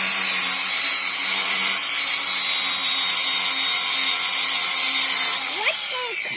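A handheld grinder runs continuously against the side of a pipe, a loud, harsh high-pitched grinding whine that holds steady for several seconds before cutting off abruptly, with a brief scrape after.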